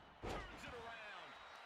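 Forearm strike impact in WWE 2K25 wrestling, one heavy slam hitting early and followed by a sustained wash of arena crowd noise.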